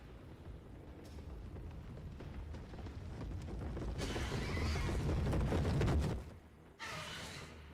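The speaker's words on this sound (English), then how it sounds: "Yes, I hear you, horsey." Horse neighing in the video game Mouthwashing, a rising, noisy whinny building over several seconds within a dark rumbling ambience, cutting off abruptly before the low drone resumes.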